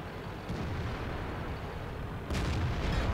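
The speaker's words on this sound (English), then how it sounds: "Now that some more shots are coming out." Tank guns fire in a World of Tanks tournament match, two muffled booms over a dense, rumbling battle backdrop, moderately faint and without talk.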